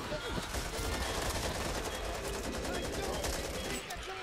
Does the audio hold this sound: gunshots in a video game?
yes